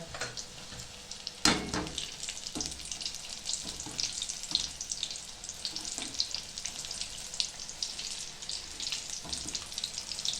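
Spinach and fenugreek bhajiya frying in hot oil give off a soft, continuous sizzle with crackling pops and a few louder clattering knocks as they are stirred, heard close up and with no talking.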